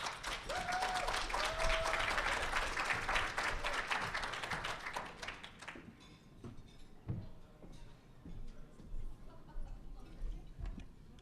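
Audience at a caregivers forum applauding to welcome a speaker, many hands clapping loudly for several seconds before thinning into scattered claps and faint room noise.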